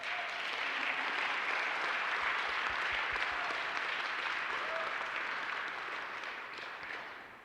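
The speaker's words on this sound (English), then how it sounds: "I would like to do a round of applause for all the staff that we had today." Steady, dense applause from an audience at a signature event, thanking the event staff, sustained evenly throughout at a moderate distance with no talk over it.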